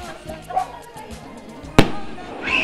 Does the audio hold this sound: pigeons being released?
no